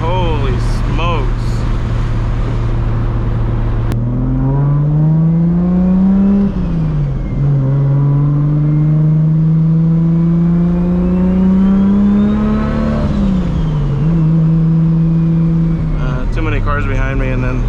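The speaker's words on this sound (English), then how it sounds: "I can't get over how good this car sounds. The way it sounds under power, like that 2-3 shift" A 1000-horsepower Toyota Supra MK4 accelerates hard under power, its engine climbing loudly through the revs with a clear drop at a gear shift and then pulling up again. A voice talks briefly over it.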